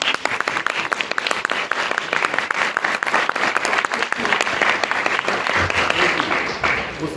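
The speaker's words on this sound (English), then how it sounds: "So let's give a round of applause to Speaker Dennis Bonnen." An audience applauds Texas House Speaker Dennis Bonnen at a legislative day event, with dense, sustained clapping that holds steady for several seconds without a break.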